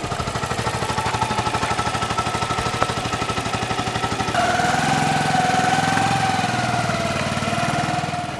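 A motorbike engine runs close by with a steady rhythmic chug, then shifts to a higher, smoother revving drone partway through and holds loud to the end.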